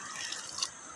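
Water running steadily over a freshly caught sebarau fish as it is rinsed clean, a soft continuous splashing and trickling lasting about a second, close and fairly quiet.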